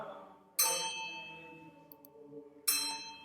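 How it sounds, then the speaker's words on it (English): Church bells in a Christmas radio play strike twice, each a bright clanging peal with ringing overtones that fades out slowly, over a faint low background. "These are the lustiest peals I have ever heard."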